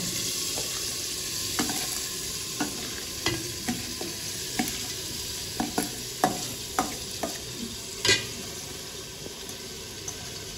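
Washed rice and lentils stirred into fried spice paste for khichuri in a hostel kitchen pot, with scraping spoon strokes and soft sizzling at a steady, irregular rhythm, close and fairly quiet, no talk.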